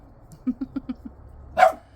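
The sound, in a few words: dog barking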